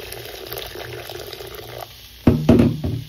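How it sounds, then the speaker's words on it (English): Hot water is poured into a pot of stuffed grape leaves and stuffed courgettes with meat. A soft watery trickle gives way to a short pause, then louder splashing gushes near the end. "And I'm gonna add hot water"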